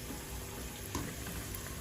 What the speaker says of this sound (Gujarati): આપણે ધીમા ગેસ ઉપર જ સમોસા તળવાના છે।